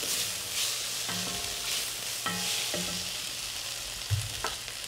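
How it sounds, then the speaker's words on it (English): Steady sizzling and crackling of onions frying in a pan, with a few soft clinks of a utensil stirring, no voices. "So the onions are frying."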